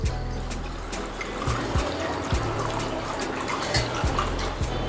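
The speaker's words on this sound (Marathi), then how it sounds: "येथे मी हे तेल आता गाळून घेत आहे." Used frying oil for fried poha chivda, a Diwali snack, being strained: a continuous close liquid trickle and pour with faint drips and light clinks of kitchen utensils throughout.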